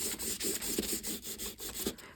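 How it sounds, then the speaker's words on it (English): A craft piece is sanded by hand with quick, rhythmic back-and-forth rubbing strokes, about a dozen in two seconds. The strokes are quiet and close. "And I gotta sand it again."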